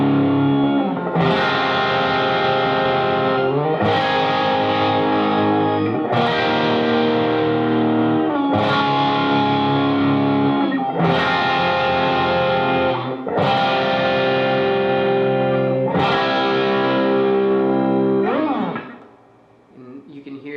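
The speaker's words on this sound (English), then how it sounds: "the harmonist is giving it those high frequencies, and just makes the sound wider" Electric guitar run through a VOX Harmonist effect set to the song's key, adding high harmonies that widen the sound; seven loud distorted strummed chords ring out evenly, each decaying before the next, then it fades.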